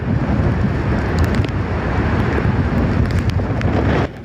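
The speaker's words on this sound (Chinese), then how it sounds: "狂风暴雨，告示牌倒地，铁皮被吹走。" Typhoon Kong-rey's wind roars through Yuli in Hualien: a loud, continuous rushing buffet of gusts battering the microphone for about four seconds before easing slightly at the very end.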